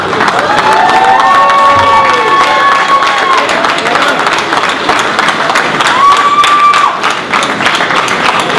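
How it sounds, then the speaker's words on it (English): A large crowd at a boxing post-fight press conference applauds and cheers in a loud, sustained wash of clapping, with scattered shouts and whistles rising above the noise. "Round of applause."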